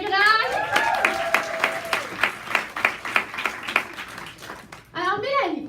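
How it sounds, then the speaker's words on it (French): An audience at a Tupperware team meeting claps for a presenter, a run of fairly sparse, distinct claps of moderate loudness, with voices speaking over the start and the end. "Alors on applaudit Mélanie Gingras."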